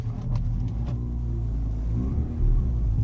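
Mazda RX-8 rotary engine revving steadily while stuck in snow, a continuous low, close rumble with slight swells in pitch and a brief louder push near the end.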